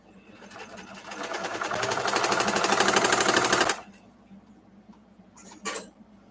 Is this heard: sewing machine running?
yes